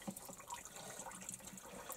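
Water runs steadily from a tap while something is washed at a sink, a continuous close splashing gush that fills the whole moment without speech.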